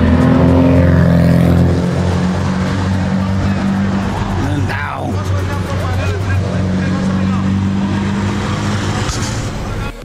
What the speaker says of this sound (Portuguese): E a motoca acelerando, tirando como ali